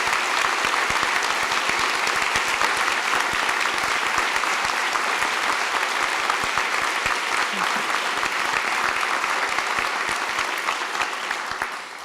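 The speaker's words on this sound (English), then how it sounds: "let's have a round of applause for all of our families." A large audience at a university opening faculty address and convocation breaks into sustained, loud, dense applause for families, lasting about twelve seconds before easing slightly at the end.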